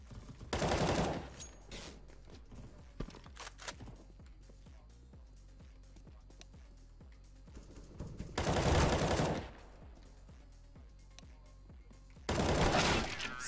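Bursts of automatic gunfire in an online shooter match, three loud volleys spaced across the stretch with quieter game sounds and faint clicks between them.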